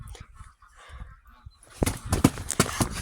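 After quiet low rumbling, a burst of loud, close duck quacking and honking breaks out, several harsh calls in quick succession.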